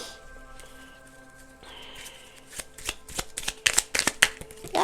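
Small tarot reading cards shuffled by hand: after a quiet hum, a few soft flicks give way to a quick series of crisp, close riffling snaps that grow louder toward the end.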